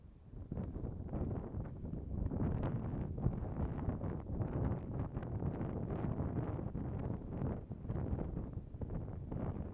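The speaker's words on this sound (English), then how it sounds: "It's windy" Strong wind on the Appalachian Trail roars continuously into the microphone for the whole stretch, a dense low buffeting rush with no pauses.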